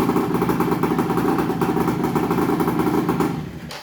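A motorcycle engine, just repaired after failing to start, runs with a steady mid-pitched rapid clatter close by, holding an even idle before fading slightly at the end.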